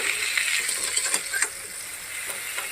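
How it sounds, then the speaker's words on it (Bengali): Eggplant fries in oil left over from frying fish, giving a steady close hiss of sizzling with small scattered pops and crackles throughout, and no talking. "এবার আমি মাছ ভাজার তেলে বেগুনটাকে ভেজে নিচ্ছি।"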